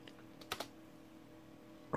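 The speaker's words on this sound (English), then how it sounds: "so I'm typing with one hand." A few scattered clicks from a computer keyboard typed one-handed, light and close over a low steady hum, sparse with irregular gaps.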